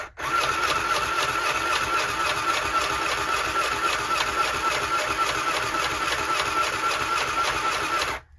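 A Magicfly sewing machine runs steadily and loudly for about eight seconds, driven from its foot pedal pressed by hand, its fast rapid stitching rhythm continuous from start to stop with no talking.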